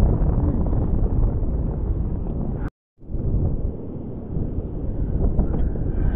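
Strong wind on Cemara beach in Sanur buffets the microphone in a loud, continuous low roar that cuts out briefly partway through and then returns just as heavily.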